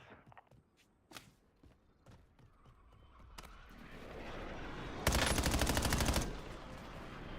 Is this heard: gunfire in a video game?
yes